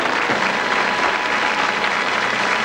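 Studio audience at a 1985 TV game show applauds loudly and steadily, a dense wash of clapping filling the whole stretch.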